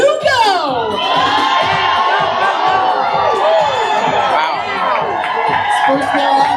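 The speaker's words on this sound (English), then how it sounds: "Cheer them on loudly, folks, because this is our most dangerous event." A crowd at a lumberjack tree-climbing race in Ketchikan, Alaska cheers loudly and continuously, with shrill whoops and children's shouts rising over a dense roar close by.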